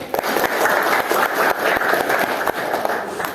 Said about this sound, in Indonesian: Oke, tepuk tangan pada temannya dulu.